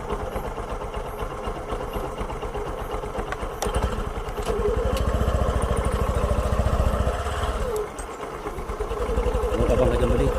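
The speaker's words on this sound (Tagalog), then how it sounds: "Par, dito na kami sa motor." A motorcycle engine idles steadily up close with a rough, pulsing mechanical rumble and some clatter, rising slightly in level partway through.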